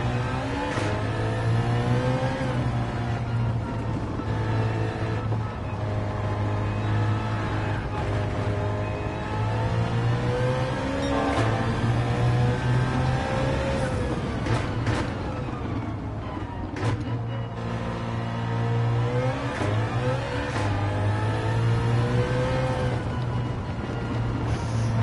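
A 6-cylinder BMW M3 in Gran Turismo 7 revs repeatedly through gears on a tight track, rising and falling in pitch with brief lifts between shifts, loud and continuous with no talk.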